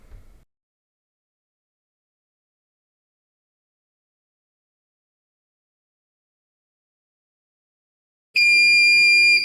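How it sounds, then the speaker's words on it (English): A single steady electronic beep from an Alientech KESS3 tuning device during a dyno test, high and clear, sounds after a long silence and lasts about a second. "A third beep will indicate that the test is now complete."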